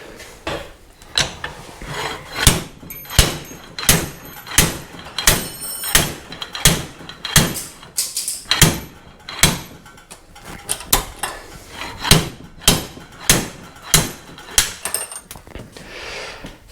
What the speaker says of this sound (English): I'll try to use the press to actually press that out